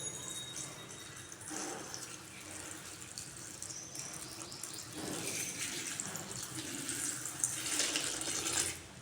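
Fermented sour buttermilk, made up as an all-in-one NPK fertilizer, is poured into a container, giving a steady trickling and splashing stream that builds slightly toward the end at a quiet, close level.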